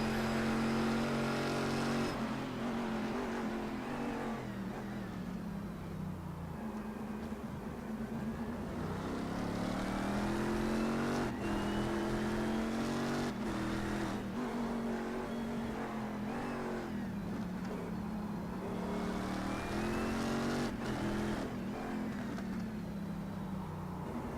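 Race cars speeding around Virginia International Raceway in the iRacing simulator, engines droning and revving continuously with rising and falling pitch through gear changes, loud and steady, with no one talking.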